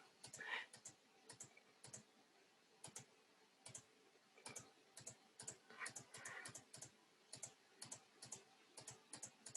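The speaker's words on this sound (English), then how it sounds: "I'm just doing a little bit of light clicking" A computer mouse is clicked lightly during a digital image repair, making a close, crisp series of quick clicks in irregular bursts against a quiet background.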